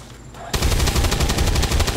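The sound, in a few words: gunfire in the video game XCOM 2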